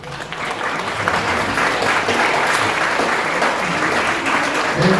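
An audience at a middle school band and choir concert applauds steadily, many hands clapping together in a dense, sustained burst that carries on to the end.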